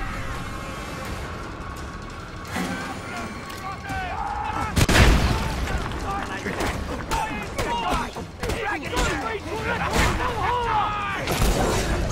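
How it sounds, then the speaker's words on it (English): Explosions and gunfire-like blasts in the Mad Max video game, with a big boom near the middle and repeated bangs and impacts over a dense, continuous bed of game action and engine-like roar. "There's explosions and everything."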